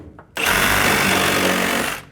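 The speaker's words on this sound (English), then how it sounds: "Oh, come on. Are you serious? Sawzall." Sawzall reciprocating saw cutting through framing strapping during a bathroom fan install, starting abruptly and buzzing loudly and steadily for under two seconds before cutting off.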